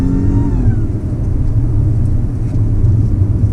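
Supercharged 3.0T Audi A6 Quattro pulling hard after a downshift to second gear, a steady engine roar with a faint rising whine near the start, loud and close, with no one talking.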